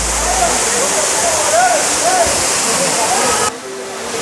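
Kailasakona waterfall, a 40 ft fall in Chittoor, Andhra Pradesh, roars with a loud, steady rushing wash of falling water, faint voices underneath, dropping abruptly in level near the end.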